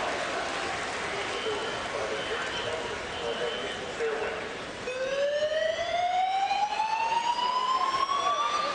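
A fire alarm siren goes off in a basketball arena during an Oregon Ducks versus UCLA college game. It cuts in partway through, a steady rising tone loud over the crowd murmur and a commentator talking.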